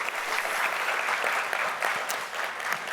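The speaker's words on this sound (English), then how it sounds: "Let's give a great round of applause." Steady, moderately loud applause fills the room at a university awards ceremony, continuous clapping from an audience with no speech over it.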